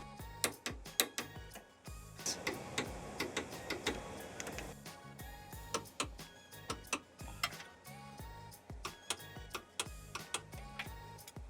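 Torque wrench being final-tightened on Toyota MR2 Spyder rear suspension arm bolts, a quiet series of sharp ratcheting ticks and clicks in irregular bursts, close up with no talking.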